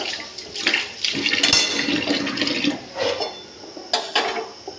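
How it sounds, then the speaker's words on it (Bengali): A spatula is rinsed under a running kitchen tap, with a rushing water stream punctuated by clinks and knocks of the utensil against the sink, close and fairly loud, without talk. "এইটার জন্য পোস্তুর খুন্তিটা কিন্তু আমাকে ধুয়ে নিতে হবে"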